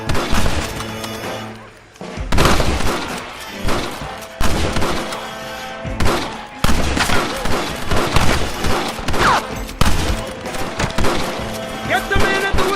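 Gunfire in the Western video game Red Dead Redemption, a dense, loud barrage of repeated shots and impacts that keeps going almost without pause, layered over game music and ambience.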